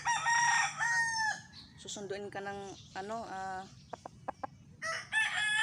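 A rooster crows close by in a long, bright, harmonic call, then again after a pause. Short clucks come in between, and someone speaks Tagalog throughout.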